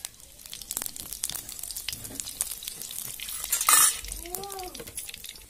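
Cumin seeds and oil crackle in a hot kadai for shahi paneer, with scattered sizzling pops, a loud clattering burst of metal partway through, and a brief voice near the end.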